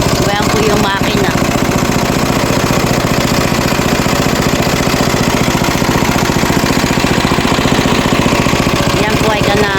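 A loud farm machine engine runs close by in a vegetable field with a fast, steady chugging rhythm that never lets up.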